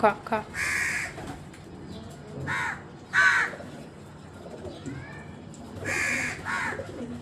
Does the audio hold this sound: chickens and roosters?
no